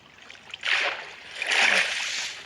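A wooden boat drops into water in Minecraft, giving two soft splashy bursts about a second apart that fade into a gentle wash, fairly close and without talk.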